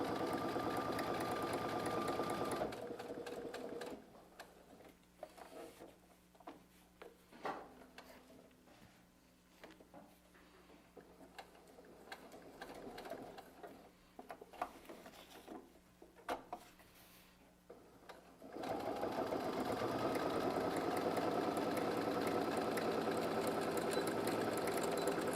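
A sewing machine stitches the handle of a fabric bag, a fast steady mechanical whirr that runs loud, drops to quieter slower stitching through the middle, then returns at full speed.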